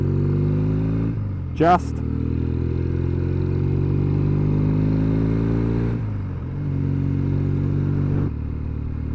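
A Norton 650SS motorcycle engine pulls away on an open road, its steady mid-pitched drone rising in a long continuous run with brief dips near the middle and end, while a rider speaks briefly over it.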